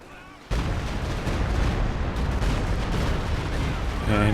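A walking Stuka rocket barrage slams into a garrisoned squad in Company of Heroes 2. A dense roar of explosions erupts after a brief quiet lead-in and holds loud and continuous, with game sounds mixed in.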